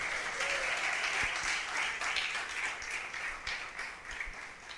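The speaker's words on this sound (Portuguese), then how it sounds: "dê um aplauso e um grito de vitória" A church congregation breaks into sustained applause with cheering mixed in, a steady dense wash of clapping that holds loud and even throughout.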